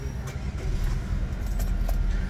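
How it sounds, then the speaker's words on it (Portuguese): A 2019 Chevrolet Cruze Sport6 LTZ with the 1.4 turbo flex engine and start-stop is started, and the steady low engine rumble sits close and loud under faint jingling and cabin clatter. "Deixa eu dar partida no carro aqui para vocês, meus amigos."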